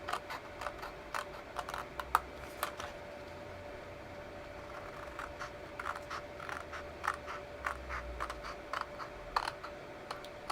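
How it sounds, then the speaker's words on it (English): Quiet, close cutting of cardstock along score lines, a series of faint crisp snips and scratchy taps in an irregular rhythm over a low background hum, with no talking. "Come down to the next one and cut again."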